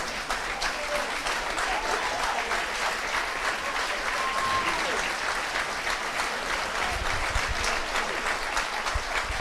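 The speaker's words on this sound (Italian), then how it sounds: "Applausi scroscianti e meritati per Fabio Cocco" Stadium crowd applauds captain Fabio Cocco of Nuorese Calcio as he leaves the pitch during an Eccellenza football match against Taloro Gavoi, steady dense clapping sustained throughout with a commentator's voice beneath.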